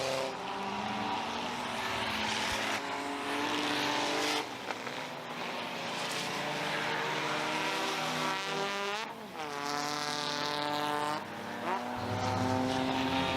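Race cars roar around the oval at Merrittville Speedway late in an enduro, engines loud and continuous with pitch sweeps as cars pass close by, and no talk over the racing.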